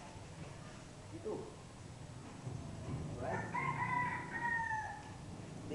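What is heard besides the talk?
rooster crowing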